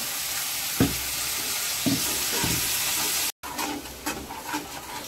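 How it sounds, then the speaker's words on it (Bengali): Spices for homemade chana masala sizzle and fry steadily in a pan, with a few stirring scrapes and knocks from a utensil, close and continuous with a brief break, and no talking. "মশলাটা কষাবার জন্য"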